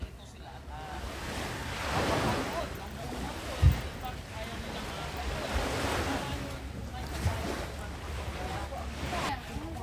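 Waves roll in and wash up in slow surges, with gusty wind buffeting the microphone and faint voices in the background.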